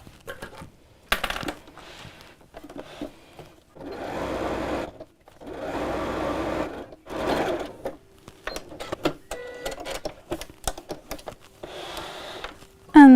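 A sewing machine stitches fabric pieces together in several steady runs of close whirring, separated by clicks, handling noises and brief pauses.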